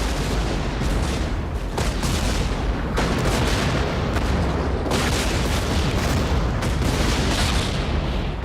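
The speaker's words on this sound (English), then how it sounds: "That's a lot of explosions" Continuous heavy explosions and artillery fire in the 1998 war film The Thin Red Line, a loud dense rumble with repeated booming blasts roughly every second or two, no speech.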